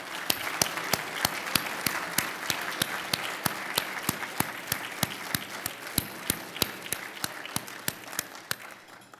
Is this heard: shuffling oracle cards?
no